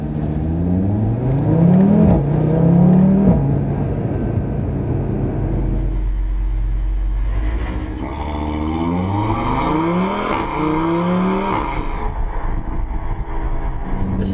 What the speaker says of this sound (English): the best way to get the best noises out of it